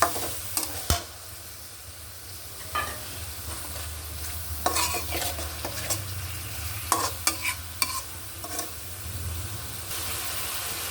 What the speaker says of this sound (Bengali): এখানে দিয়ে দিচ্ছি সেই কাটা ইলিশ এটা একটু আমি একটু কষিয়ে নিব